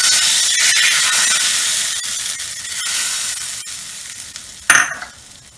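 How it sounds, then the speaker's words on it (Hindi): A hot garlic and chili tadka with Kashmiri red chili is poured over red masoor lentil dal, giving a loud steady sizzle that fades slowly. A sharp crackling burst comes near the end, and the hiss then settles lower. "इसे दाल के ऊपर तड़के को डाल देंगे"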